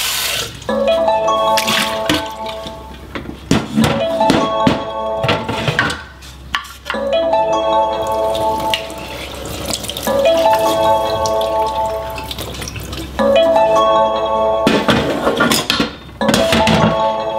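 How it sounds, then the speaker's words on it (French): Food draining in a colander: water trickles and drips steadily, with brief gaps and occasional light clinks, close and fairly loud with no talking. "On laisse bien tout s'égoutter."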